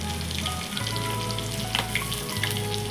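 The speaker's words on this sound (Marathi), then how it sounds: "आता मी ते गंटोल्यामधलं जे पल्प होता ना तो काढून घेतला आहे आणि तो तेलात फ्राय करून घ्यायचा" Spiny gourd (kantola) pulp fries in hot oil in a pan, giving a steady, close sizzle with a low hum underneath and a few light clinks.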